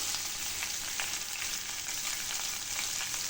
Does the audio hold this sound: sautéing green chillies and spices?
yes